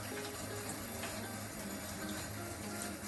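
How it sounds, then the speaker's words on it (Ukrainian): Fresh dill is rinsed under a running kitchen tap before pickling cucumbers, a steady, soft stream of water splashing continuously and evenly throughout, with no voices. "Промиваю так під проточною водою."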